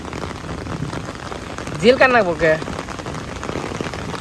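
Heavy rain pours steadily during the Bangladeshi rainy season, a constant broadband hiss filling the scene while someone speaks briefly over it midway.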